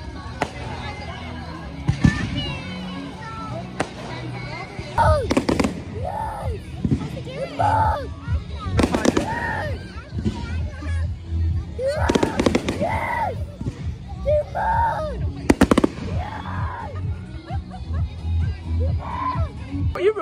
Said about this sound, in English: You want more fireworks?